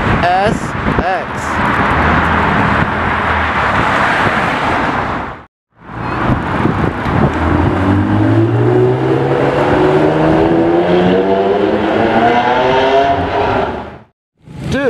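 A Honda NSX drives past at a JDM import car show, its engine note rising in revs through clear, climbing harmonics, loud and close, with people talking and two brief silences.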